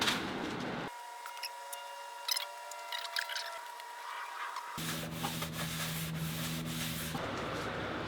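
A car bumper being scuffed down by hand before painting, a close, continuous abrasive rubbing and sanding sound that shifts in texture partway through, with no voices.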